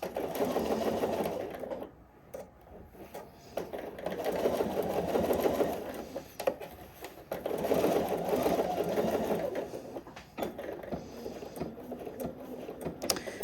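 A sewing machine stitches a sleeve seam with a gusset near the underarm, whirring steadily in close bursts with brief pauses between runs and faint handling noise.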